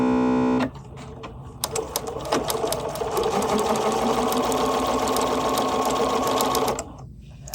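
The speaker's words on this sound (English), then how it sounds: "I'm going to use my knee lever to lower my presser foot, and now I'm just simply going to stitch" Sewing machine stitching a quilt block seam, a fast, steady mechanical whir running for about six seconds after a short tone and a few clicks, then stopping.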